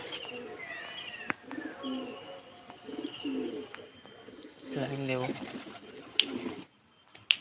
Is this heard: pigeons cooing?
yes